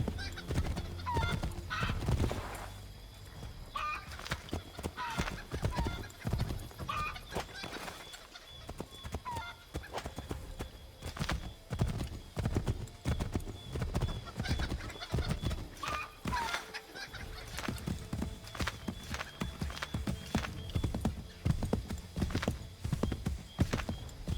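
Horse hooves clip-clop in a steady rhythm while riding in the video game Assassin's Creed III, with occasional whinnies and faint farmyard fowl sounds in the background, no speech.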